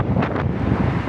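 Strong wind buffets the microphone outdoors in Pawtucket, New England, during a road bike ride, making a loud, continuous low rumble that fills the whole moment with no talking.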